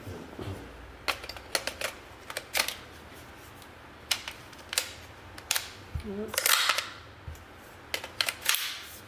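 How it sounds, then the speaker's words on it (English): HK magazine being inserted and locked into a PTR rifle, a series of sharp, close metallic clicks and clacks spaced irregularly over a quiet background. "Let's make sure that these HK mags actually lock in."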